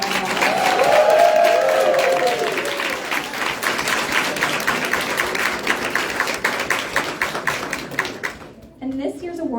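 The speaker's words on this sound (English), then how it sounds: "Let's give them all a big round of applause." Audience applause fills a hall at the RVA Tech Awards, a dense, sustained roar of clapping that thins out near the end as a voice starts speaking.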